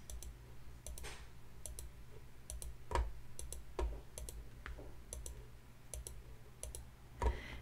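A computer mouse clicks repeatedly while squares are selected in desktop publishing software, quiet, crisp single and double clicks spaced irregularly over soft background noise.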